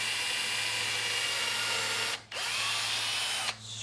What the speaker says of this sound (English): I'm going to pre-drill it with a drill all the way through